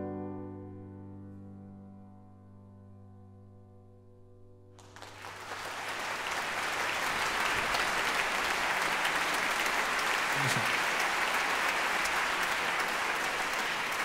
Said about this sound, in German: Da klatscht das ganze Orchester zurecht